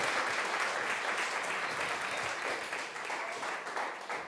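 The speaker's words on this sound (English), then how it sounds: "can we give them a round of applause?" Audience applause at a writers' festival after a live music performance, steady and sustained clapping from a sizable crowd, moderately distant and continuous throughout.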